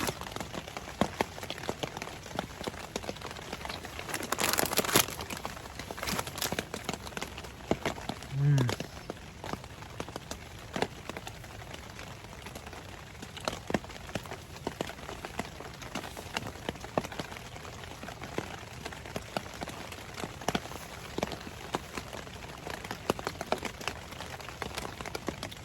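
Light rain patters on a Tatonka tarp stretched over a hammock and bivvy at a winter camp. Soft, irregular drops tap throughout, with occasional louder knocks and a brief rustle near the start.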